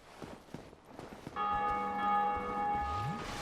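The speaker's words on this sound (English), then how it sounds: "Somebody else just rang the bell" A large church-style bell rings out in Dark Souls Remastered, one sustained resonant toll with ringing overtones rising from behind quiet game footsteps and ambience, holding steady for a couple of seconds.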